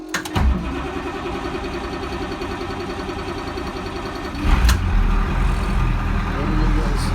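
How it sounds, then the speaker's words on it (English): A skoolie bus with a 444 mechanical diesel engine cranks briefly from about half a second, churns for several seconds, then catches and settles into a loud steady idle near the microphone. "Let me go ahead and try and crank this sucker over."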